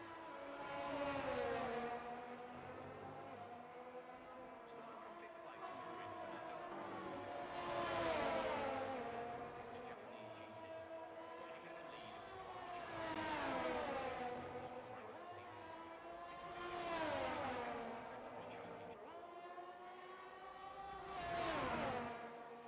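Formula 1 cars at the Japanese Grand Prix in a racing video game, engines revving and pulling away in repeated rising and falling whines that swell and fade in long waves, fairly faint and steady.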